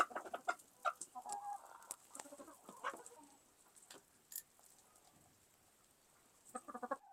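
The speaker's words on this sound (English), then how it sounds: "Often they are not just pecking on here, they are literally ripping on it to get some food out." Chickens peck and tug at an automatic feeder, making soft clucks and sharp tapping clicks in scattered bursts. A busier flurry comes at the start and again near the end, with a quiet lull between.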